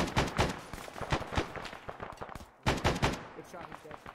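Rapid bursts of rifle and machine-gun fire crack through a jungle firefight in the military shooter Arma, with dense repeated volleys, a brief lull, then another loud burst.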